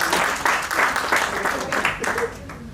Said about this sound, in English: One round of applause for sir.